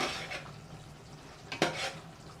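A spoon scrapes and clinks against a pot while garam masala is stirred into a simmering pot of chapdi undhiyu, a Gujarati mixed-vegetable curry with muthiya. The stirring is quiet and close, with a few louder scrapes near the end.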